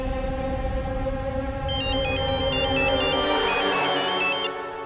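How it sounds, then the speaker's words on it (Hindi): A mobile phone rings with an incoming call, a loud, continuous electronic ringtone with a repeating melodic pattern heard close up over a steady background hum, with no talking. "आपके फोन से मेरे फोन पे फिर से कॉल आ रहा है"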